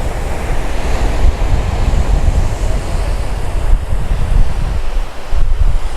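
Ocean surf rolls in continuously, a loud, close, churning roar heavily mixed with gusty wind buffeting the microphone, with no voices.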